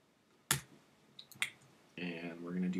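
Computer mouse clicks while working in Photoshop: one sharp click, then a couple of softer clicks, followed by a voice starting to speak.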